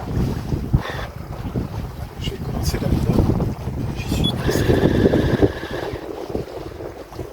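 A sailboat under way in wind, turning downwind: heavy wind buffeting across the microphone with rushing water and hull noise, steady and close, while someone speaks briefly over it.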